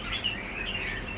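Red-whiskered bulbul of the shrimp-backed type chirping in a steady run of bright calls, close by and fairly loud over a low background hum.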